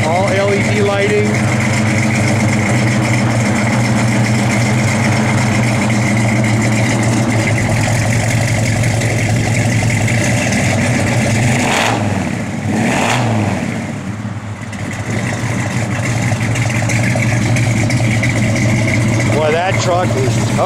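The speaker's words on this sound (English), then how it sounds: "Give it a rev." Engine of a 1969 GMC 1500 pickup truck, heard close up as a steady, loud rumble with a brief throttle swell partway through, while someone talks over it.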